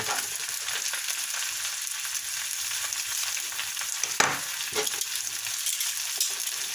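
Spinach frying in oil in a hot pan, a steady dense sizzle throughout with a few sharp crackles and turning scrapes near the end; no talking.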